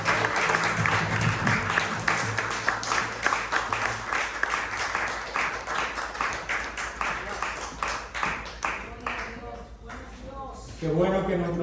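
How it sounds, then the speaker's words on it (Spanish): Congregational applause at a Spanish-language church worship service, with dense clapping from a crowd that swells loudly and then thins out, followed by voices and music at the end. "Dale un aplauso al Señor."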